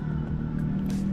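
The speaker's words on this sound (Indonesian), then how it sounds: "Maaf ya teman-teman berisik, karena ini pinggir jalan, itu jalan raya." Traffic passes by on a main road beside the roadside, a brief, close, low engine rumble with a steady droning hum.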